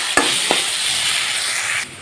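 Small fish frying in a pan over medium gas, a steady loud sizzle with a couple of sharp stirring clicks near the start, cutting down abruptly just before the end.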